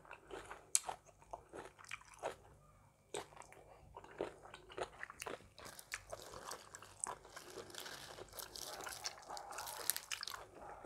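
Someone biting and chewing a spicy Thai squid salad made with squid and banana: close, wet crunching and chomping bites in an irregular run, with no talking.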